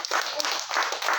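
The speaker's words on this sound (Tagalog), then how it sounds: "Palakpakan po natin ang malakas sa kanyang salita." Prayer group applauding after a scripture reading at a year-end gathering, a short burst of quick, close clapping in uneven surges, no voices.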